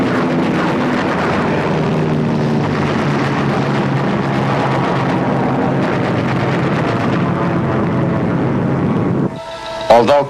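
WWII Allied fighter and bomber aircraft flying overhead give a loud, steady droning roar that holds for about nine seconds, then cuts off abruptly.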